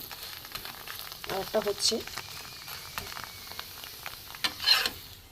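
Paratha frying in a pan with a little oil, giving a soft crackling sizzle with brief louder spatters, close by under a voice speaking.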